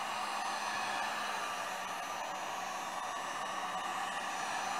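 A heat gun runs steadily at close range, warming the adhesive around the edges of a Galaxy S6 edge phone during a charging port repair; a constant airy blowing hiss with faint hum, alone and unbroken throughout.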